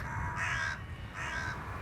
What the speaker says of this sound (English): feeds the birds in Regent's Park